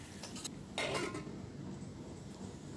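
A lid clatters onto a cooking pot of amaranth masiyal just after the tempering goes in, giving a few quiet metallic clinks and then one brief, louder clank against faint background noise.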